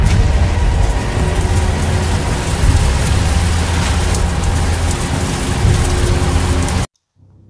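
Heavy rain pours in a dense, loud hiss with a low rumble of thunder underneath, holding steady for about seven seconds before cutting off abruptly.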